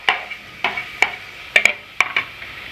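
A ladle stirs chopped tomato, shallots, coriander and mint frying in a pan, giving sharp intermittent scraping clacks about every half second over a soft, steady sizzle.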